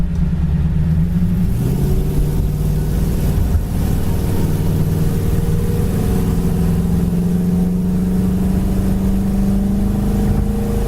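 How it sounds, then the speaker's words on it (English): A 1968 Chevrolet Camaro engine runs loud and close, its low rumble rising in pitch as it accelerates and climbs through the revs. "This car sounds great, goes down the road nice, it's nice and quiet."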